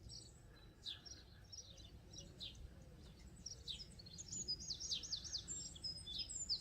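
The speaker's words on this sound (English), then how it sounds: "Sounds like a bird." Outdoors, a bird calls in quick, high chirps and trills that grow busier and louder toward the end, set over a low rumbling background with a faint insect-like hum.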